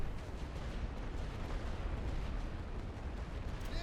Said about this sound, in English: Yeah, that was a really good bombard.